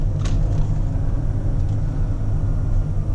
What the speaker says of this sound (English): You see how quickly this engine started.